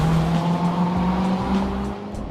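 A sixth-generation Chevrolet car engine drones loud and steady from inside the cabin, with a deep sustained tone and slight rising pitch and no talking.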